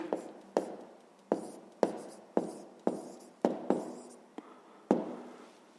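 A pen writes out a fifth-grade math solution by hand on paper, giving a quiet, close series of about nine sharp taps and short scratching strokes at an uneven rhythm, with no talk.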